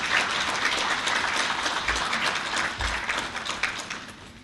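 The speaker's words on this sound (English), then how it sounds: "our new CEO at the Psoj, Mr. Dennis Chung, please give him a round of applause." Sustained applause from an audience greeting the new CEO of the PSOJ, Dennis Chung, at a Jamaican business event; dense, steady clapping that fills the room with no speech over it.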